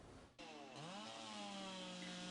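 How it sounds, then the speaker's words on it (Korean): An electric chainsaw revs and bites into the base of a tall cedar during roadside widening work on Jeju's Bijarim-ro, a steady loud whine that rises in pitch as it cuts, with no voices. "한 인부가 전기톱으로 나무 밑동을 자르기 시작합니다"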